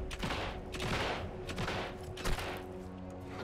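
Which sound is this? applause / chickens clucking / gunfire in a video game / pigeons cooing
gunfire in a video game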